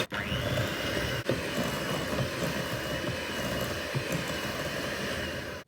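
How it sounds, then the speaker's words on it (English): An electric mixer creams butter with dark and light brown sugar for pecan cookie dough, a steady, fairly faint motor whir that runs unbroken for several seconds and cuts off at the end. "I'm going to get in there with my mixer and cream that all together."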